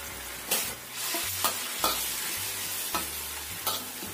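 Steamed eggplant sizzles steadily in a pan while a utensil scrapes and stirs, with several distinct scraping strokes at an even pace.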